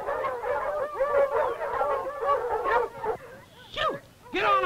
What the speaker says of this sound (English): Get these hound dogs out of here.